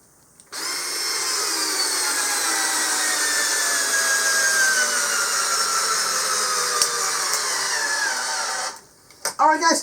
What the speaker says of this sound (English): We'll see if each drill can push this lag bolt through the pressure-treated wood.